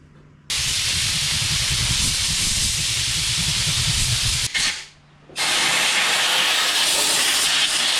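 Compressed air blasts steadily through a zero turn mower's air filter as a loud, broad hiss. It runs for about four seconds, cuts off briefly, then resumes for another long burst.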